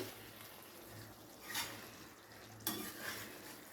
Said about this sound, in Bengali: ঘিটাকে একটু ভালো করে মিশিয়ে দেবো পটলের সাথে।